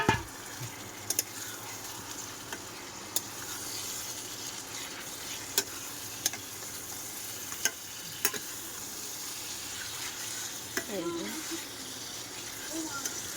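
Meat cooking in fried spice paste in a home kitchen, a constant soft sizzle with occasional sharp clicks of a utensil at regular intervals, and brief talk near the end.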